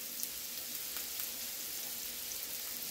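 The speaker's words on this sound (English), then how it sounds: "we're going to saute it until it comes a golden brown" Garlic powder and onion powder sauté in a pan with a faint, even sizzling hiss and a few light ticks, steady and continuous throughout with no talking.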